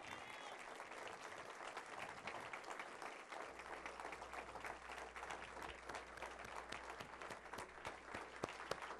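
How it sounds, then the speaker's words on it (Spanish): A church congregation at a service stands and claps for the Lord, a sustained, even applause filling the room, fairly soft and distant, with a low hum beneath. "Démosle el aplauso al Señor."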